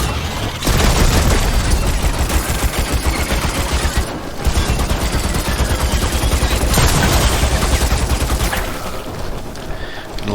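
A gun in the video game Crucible fires sustained rapid bursts, dense and loud, pausing briefly once before the shooting resumes.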